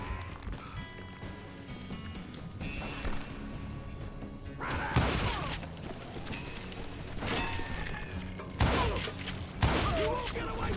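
Gunfire in the Western video game Call of Juarez Gunslinger, several sharp bursts of shots amid thuds and game sounds, with a voice speaking over parts of the action.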